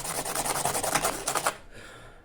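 Coarse 60 grit sandpaper scratches steadily across a surface in quick back-and-forth strokes for about a second and a half, then stops, leaving only a faint residual hiss.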